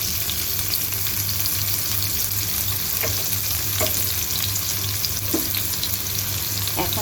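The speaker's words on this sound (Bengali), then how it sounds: "একটু ভেজে নিয়ে এর মধ্যে আমি অ্যাড করে দিব পেঁয়াজ কুচি এবং কাঁচা লঙ্কা ফালি।" Chopped onion and sliced green chilli sizzle steadily in hot oil, a continuous loud frying hiss with occasional scraping stir strokes.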